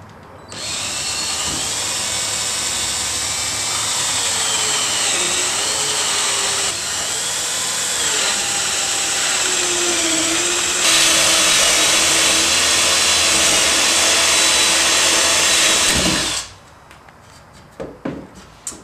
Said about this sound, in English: We're going to go ahead and drill through these.